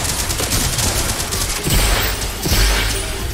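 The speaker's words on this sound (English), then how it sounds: "SMG is definitely a healthy little sidearm right here" SMG fire in the video game Larcenauts comes as dense, loud, close bursts of rapid shots, with heavy thumps partway through, and no voices.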